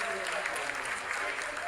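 Applause breaks out in the control room during the Chandrayaan-3 lunar landing's vertical descent, a dense steady roll of many hands clapping, with a commentator's voice speaking over it.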